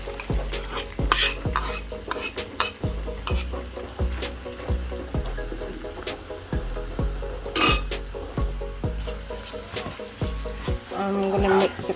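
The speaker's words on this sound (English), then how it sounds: "Next we're going to add in our onions." Onions stirred and frying in a pan for Korean-Thai bao bun chicken filling, with repeated scraping utensil strokes in a steady rhythm over a low background sizzle, close and fairly loud, no talking.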